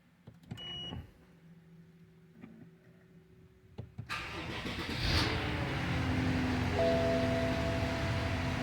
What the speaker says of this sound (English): So I'll start the vehicle up.